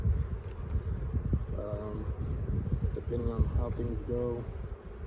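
Honey bees hum and buzz around a backyard beehive, a close, wavering drone beneath someone talking.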